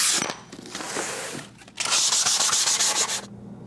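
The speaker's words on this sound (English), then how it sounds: "we need to sand this to rough it up so that the adhesive will bond to this surface better" Sandpaper rubs back and forth over a laminate countertop to roughen it before tiling, making close, loud, scratchy strokes with a brief pause partway through.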